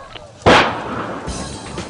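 Rocket nets fire to capture tundra swans: a single sudden, loud blast that decays into a rough rumbling whoosh lasting over a second, with a second, weaker surge of noise afterwards.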